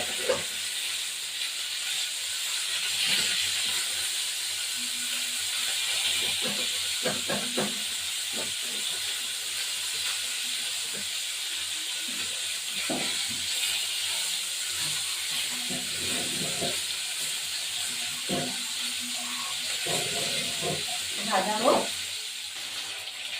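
Snakehead (shol) fish heads fry in a pan with a steady, loud hiss and sizzle throughout, broken by occasional clatter as they are turned.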